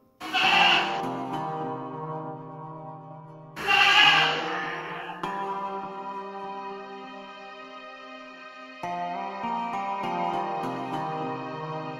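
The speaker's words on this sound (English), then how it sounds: "The chicks are scared on listening to the sounds of a dove and a goat." A goat bleats loudly and nearby outdoors, with two strong wavering calls followed by sustained tonal cries, heard alone with no talking.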